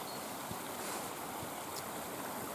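A small stream runs swollen after Cyclone Gabrielle near a washed-out ford at Everetts Ford Campsite, giving a steady broadband rush of flowing water, loud and continuous, with some wind; no one speaks.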